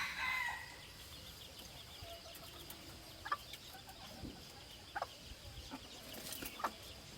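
Gamecocks kept in small cages crow and cluck faintly at a distance, with scattered brief calls and clucks over a quiet background.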